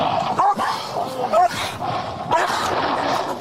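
A pair of dogs bark and yip in repeated short bursts, fairly close, over a steady outdoor hiss, with some faint talk mixed in.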